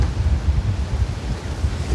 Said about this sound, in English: You see the wind's really picked up now, which is ideal.